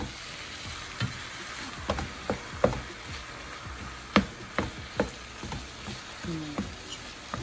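Lasagna sauce stirred in a pan, a soft continuous sizzle with scattered scraping knocks of a utensil at irregular intervals, quiet and close, with no voices.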